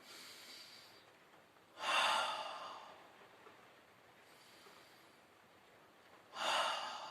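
Two deep, audible breaths are drawn in through the nose during a Pilates exercise, a few seconds apart, close to the mic against a quiet room.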